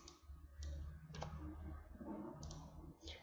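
Soft, quick mouse clicks come in pairs and singles over a low hum, close and faint, with brief gaps between them.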